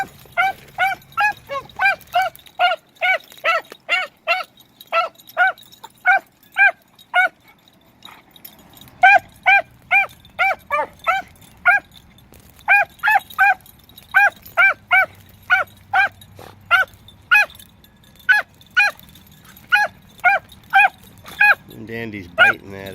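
A pair of dogs bark loudly in steady, evenly spaced bursts that repeat throughout, with a short pause partway through before the rhythmic barking resumes.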